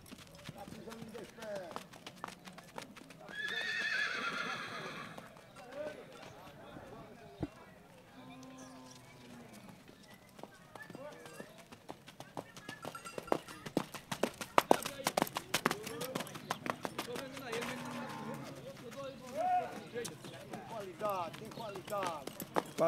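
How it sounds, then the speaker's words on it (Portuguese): A horse being walked at a rural horse fair in Senador Rui Palmeira, Alagoas, its hooves clip-clopping in irregular steps beneath near-constant Portuguese talk and outdoor crowd noise. "vai dar uma voltinha agora no cavalo pra gente mostrar"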